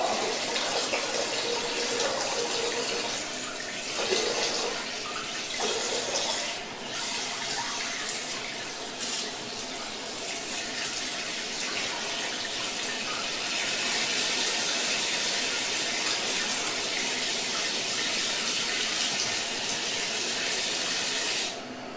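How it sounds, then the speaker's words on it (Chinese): Steady hissing water spray from a spray gun on half-mist setting rinses the evaporator of a wall-mounted split air conditioner during cleaning, running continuously and fairly loud with small shifts as the stream moves. "接下来我们来冲洗蒸发器。"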